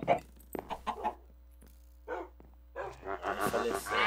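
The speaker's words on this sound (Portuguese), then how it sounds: "Aqui tem mó galinha." Chickens cluck in short bursts in a Minecraft Farm Hunt game, with a few scattered clucks at first and then a busier cluster toward the end, over a low steady hum and faint game sounds.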